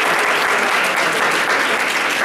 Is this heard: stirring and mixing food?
no